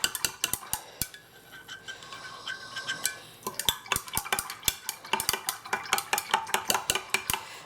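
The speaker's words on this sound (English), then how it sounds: "Let's give this a good stir." A utensil stirs water kefir with kefir grains and brown sugar in a vessel, giving a steady run of sharp, close clinks and taps against the sides, with a short quieter gap in the middle.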